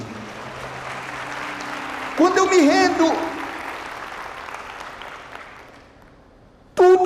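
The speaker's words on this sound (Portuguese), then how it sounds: "Dê um aplauso a ele." A congregation at a church intercession training session gives a round of applause that forms a broad wash of noise. A preacher speaks over it as it gradually fades away.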